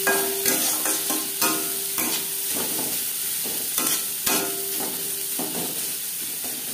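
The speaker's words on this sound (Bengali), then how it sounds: "পেঁয়াজ লালচে করে ভেজে নেব" Two chopped onions with turmeric powder fry in hot oil in a pan for a chichinga (ridge gourd) dish, a steady close sizzle broken by repeated scraping stirs of a spatula throughout.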